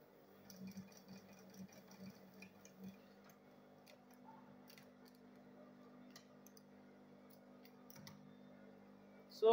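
A sewing machine stitches a handbag lining in a steady, fast ticking run, its needle clicking rhythmically at moderate distance with faint background noise and no talking.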